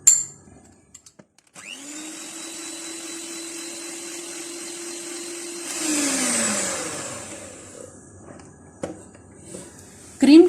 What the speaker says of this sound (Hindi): क्रीम के साथ थोड़ा सा इसको बीट कर लेंगे